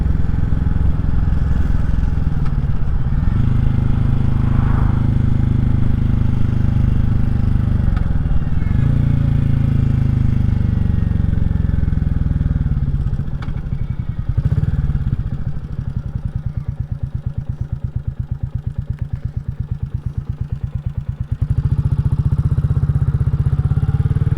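A Royal Enfield Classic 350 single-cylinder motorcycle rides along country lanes in Powys, its engine thumping loud and steady throughout, rising and falling with throttle changes and a dip in the middle, mixed with wind rush and no talking.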